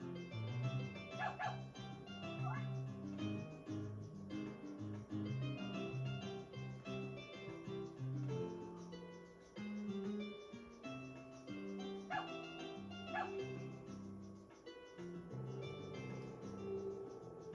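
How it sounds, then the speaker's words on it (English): Several stray dogs barking and yipping in Harvest Moon: Another Wonderful Life, short repeated barks over a looping music-like background, moderately loud. "It looks like we have some stray dogs here."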